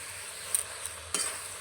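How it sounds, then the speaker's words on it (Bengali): Fried spices are stirred into jujube (kul) pickle in a pan, with a quiet low sizzle and two brief scraping stirs of a utensil against the pan. "ভাজা মশলাটা ছড়িয়ে দিয়েছি, ভালো করে মিশিয়ে নেব।"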